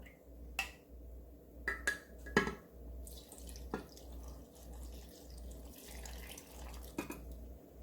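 Homemade soy-based pickling sauce poured over green chili peppers and onions in a sterilized container, soft trickling with a few sharp clinks and drips, quiet and close, with no talk.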